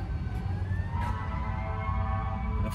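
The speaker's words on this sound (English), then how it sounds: "And of course, an ambulance or fire truck, whatever it is coming through here." Siren of an ambulance or fire truck passing by a 2015 Toyota Highlander, rising wail tones heard moderately far off over low road and cabin rumble, no talk.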